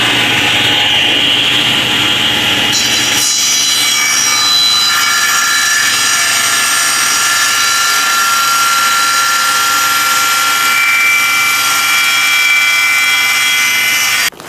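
A table saw blade set to 2.5 inches cuts through a plastic Wedge Pro segmenting sled, a loud, high whining screech that jumps in pitch as the blade bites and holds steady to the end.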